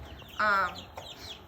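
A single short cluck from an Easter Egger chick, a couple of weeks old, close and clear, followed by a fainter chirp, with quiet background.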